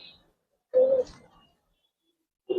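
Old-breed Giribaz pigeons in a loft give one clear, close coo, and a second coo begins just at the end, with silence between the two calls.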